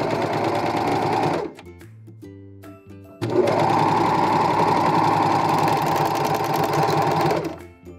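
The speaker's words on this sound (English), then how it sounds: "I'm going to serge them together" A serger overlocker runs fast over two layers of fabric in two bursts of rapid mechanical chatter, with a short pause between them and a quiet end.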